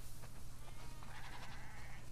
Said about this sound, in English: That's a lot of sheep.